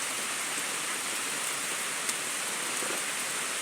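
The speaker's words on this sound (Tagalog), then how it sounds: "Yan na guys, lumalakas ng ulan." Steady, heavy rain pours down in a dense, continuous hiss, with no voices over it.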